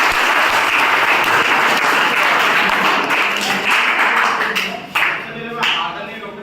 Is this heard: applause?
yes